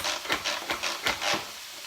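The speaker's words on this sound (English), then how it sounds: "we are using the mix and chop" A mix-and-chop utensil scrapes and stirs through chili in a pan, rhythmic rubbing strokes about every quarter second with faint sizzling underneath, close and alone.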